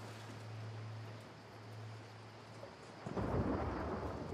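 A thunderstorm in the video game The Last of Us Part II rumbles with steady rain, then a thunderclap swells louder near the end over a low constant hum.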